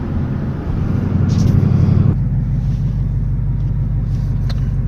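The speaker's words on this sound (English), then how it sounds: "you're in an 800 horsepower Mustang" An 800-horsepower Ford Mustang's engine drones with a deep, steady rumble from inside the car while driving, swelling briefly before settling back to a constant low hum.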